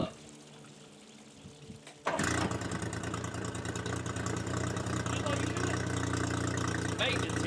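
The outboard motor on a 19 ft Carolina Skiff DLV-Series boat turns over and catches, then settles into a loud, steady idle nearby, with a voice briefly heard before the start.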